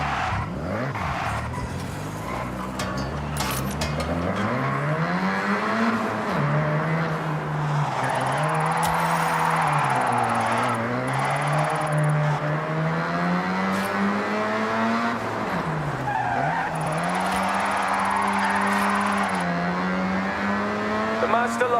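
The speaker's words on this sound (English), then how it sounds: "The Mazda loves to slide." A Mazda drifts in Forza Horizon, its engine droning and wavering through long slides, with tire squeal and skidding running steadily and loudly throughout. A voice speaks over parts of it.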